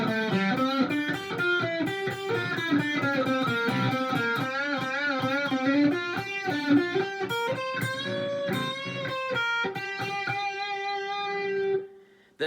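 An electric guitar plays a riff, a clean run of repeated picked notes and bends over about twelve seconds, close and alone, ending with a sudden stop.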